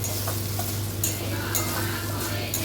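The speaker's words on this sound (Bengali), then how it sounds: "একটু ভাজতে হবে মশলাটা।" Ground spice masala with salt, turmeric, sugar, cumin and coriander powder is stirred and fried in a pan, giving a continuous soft sizzle with repeated scraping strokes and a low steady hum underneath.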